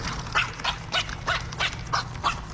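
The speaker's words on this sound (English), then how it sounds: "Have you ever heard a stingray? stingray bark." A stingray barks repeatedly, about seven short, sharp, evenly spaced yelps in quick succession, loud and close, with nothing else heard between them.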